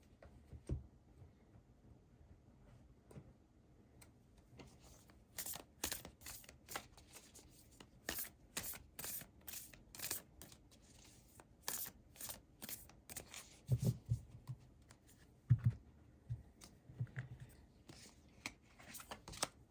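Oracle cards are shuffled in quick bursts of crisp riffling and flicking. The bursts are close and fairly quiet, with short pauses between them and no talking.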